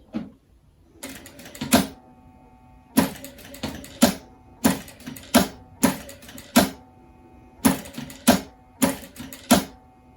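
A domestic sewing machine stitches fabric along a pattern line for a small cushion piece, running in short sharp bursts with pauses between, each burst a quick clattering run, loud and close with no talk.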